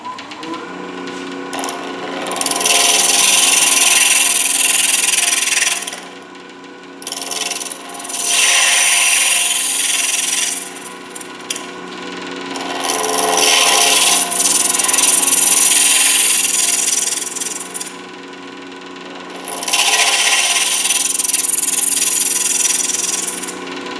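An acrylic pen blank spins on a wood lathe while a tool cuts it, giving a continuous scraping, rasping whir that swells and drops back in long passes, with brief pauses between cuts; no one speaks.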